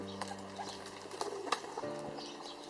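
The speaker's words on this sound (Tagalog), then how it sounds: "This is pigeon in English." A pigeon coos softly in a few low, repeated notes, with faint rustling and ambient noise around it and no talking.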